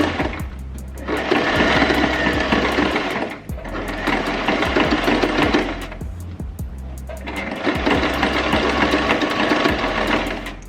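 A sewing machine stitching a wig runs in three long, loud bursts of steady mechanical whirring, with brief pauses between runs and no voices.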